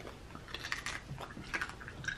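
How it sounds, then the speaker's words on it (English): Someone bites into the crisp crust of air-fried lechon, producing a few sharp crunches and chewing sounds close to the microphone over roughly two seconds, with no talking. "now give that crunch test with your mouth"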